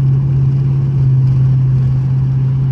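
Dodge Charger RT engine fitted with 5-inch carbon exhaust tips, a loud, steady low drone on the highway with no talking.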